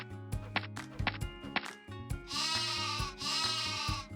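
A sheep bleats twice in drawn-out, wavering cries, loud and close, after a run of sharp rhythmic knocks and thumps.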